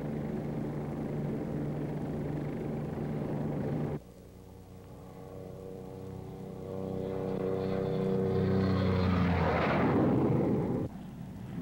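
A fast-flying aircraft passing low over flat terrain, a rising jet roar that swells, peaks loudly and then cuts off, following a steady engine drone.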